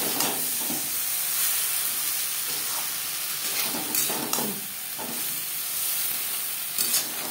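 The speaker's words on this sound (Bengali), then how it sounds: "সবজি কষাবো হাই টু মিডিয়াম ফ্লেমে।" Ridge gourd and other vegetables sizzle with spices and a little water in a pan over high to medium flame, a steady close hiss with occasional stirring scrapes and no talking.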